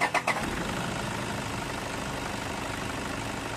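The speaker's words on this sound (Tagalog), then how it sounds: "O, start ko na itong makina." A Toyota Innova engine cranks with a few quick starter bursts, catches and settles into a steady idle that runs on alone, close and moderately loud.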